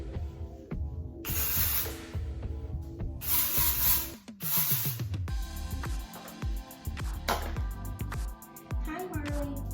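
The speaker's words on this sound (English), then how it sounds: "I'm gonna do some dry shampoo. I use the Not Your Mother's purple one." Dry shampoo (Not Your Mother's purple, orange mango scent) sprayed onto hair in three loud hissing bursts of about a second each, with rustling and handling noise and speech nearby.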